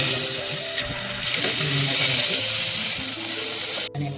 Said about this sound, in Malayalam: അപ്പോൾ ഈ കടുക് പൊട്ട തുടങ്ങിയിട്ടുണ്ട്